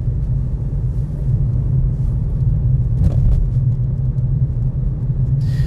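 A car rolls through the small Highland village of Evanton in Scotland, its steady low rumble of engine and road noise filling the cabin with no pauses.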